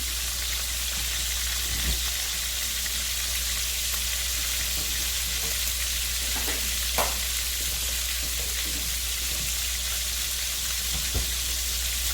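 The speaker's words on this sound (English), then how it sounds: "I'm just going to continue frying these" Steady hiss of plantains frying in a pan, constant sizzling with a few faint clinks, no voices.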